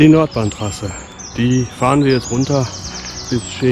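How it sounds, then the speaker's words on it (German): Birds chirp and tweet along the Nordbahntrasse cycle path, their small calls faint beneath someone speaking close to the microphone. "Also die Vögel zwitschern sich die Segel aus dem Leib."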